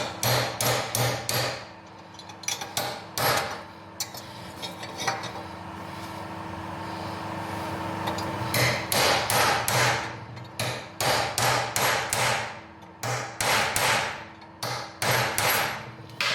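Sharp metallic hammer blows on a large pin punch ring out in quick bursts of several strikes, pausing in the middle, then resuming with rapid repeated hits close by.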